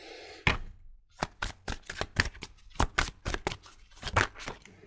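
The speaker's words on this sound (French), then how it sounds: "Attendez, hein, je range un petit peu mes cartes." Tarot cards being shuffled and tidied on a table: close, crisp card slaps and riffles in quick irregular bursts, about a dozen sharp hits with brief gaps, moderately loud with no talk.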